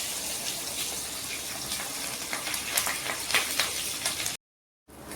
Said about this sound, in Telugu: ఇంకో 2 సైడ్స్ మంచిగా ఫ్లిప్ చేసుకొని ఫ్రై చేసుకున్నా.